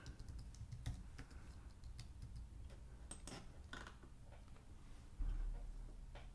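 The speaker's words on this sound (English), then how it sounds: "I just type it in." Soft clicking of fingers typing on a computer keyboard, a quiet run of irregular keystrokes close by in an otherwise still room.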